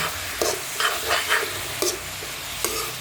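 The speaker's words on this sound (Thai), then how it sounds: "แล้วก็คั่วครับคั่วหมูให้สุกครับ" Pork stir-frying in a pan over moderate heat for Thai kaeng om, with a steady sizzle and intermittent scraping stirs against the pan, close and alone without voices.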